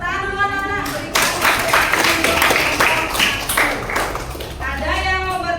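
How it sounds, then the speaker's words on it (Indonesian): Schoolchildren applaud together in a classroom, a burst of dense, loud clapping lasting several seconds, bracketed by a teacher's voice speaking before and after. "Tepuk tangan dulu anak-anak."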